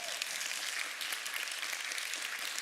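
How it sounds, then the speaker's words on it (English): Conference audience at Devopsdays Eindhoven 2023 applauding two volunteers, a dense, steady wash of many hands clapping at moderate level throughout, with no voices over it. "give them a big round of applause."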